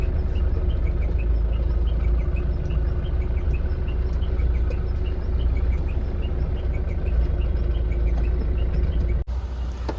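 A Tavera car's engine runs steadily with a constant low rumble, close and continuous, with faint bird chirps above it, before the sound drops off abruptly near the end.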